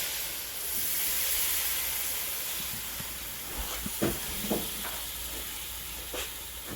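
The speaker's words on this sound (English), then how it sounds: "Gonna add my white wine to deglaze the pan." White wine hitting a hot pan to deglaze it, a loud hissing sizzle that slowly fades, then a few sharp clinks and scrapes of stirring.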